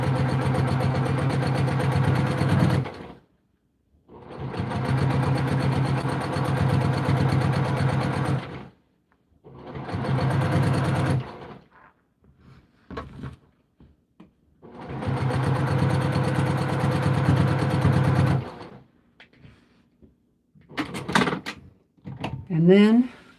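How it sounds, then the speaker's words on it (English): Sewing machine stitching binding onto placemats, running in three long steady bursts with pauses between, followed by brief handling clicks and rustles near the end. "Finish sewing that down."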